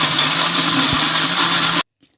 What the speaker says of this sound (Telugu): ఇప్పుడు మూత పెట్టేసుకొని మిక్సీ పట్టేసుకుందాం ఇంకా